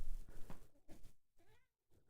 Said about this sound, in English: Here's a kitty cry. It's a kitty war cry.